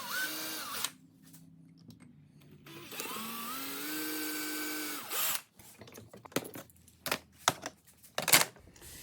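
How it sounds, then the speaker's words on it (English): A power drill bores guide holes into a guitar neck beside the truss rod at the first fret, with two rising whining bursts of the motor followed by short clicks and scraping handling noises. "I'm going to drill a hole just off to the side of the truss rod at the first fret"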